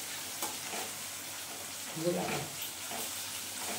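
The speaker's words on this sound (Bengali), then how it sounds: "পেঁয়াজটা আমি বন্ধুরা লাল লাল করে ভাজবো না, একটু হালকা পিক আসবে সেরকমটা ভাজবো" Onions frying lightly in a pan, a soft, faint sizzle with a few quiet stirring scrapes, fairly steady and close but low in level.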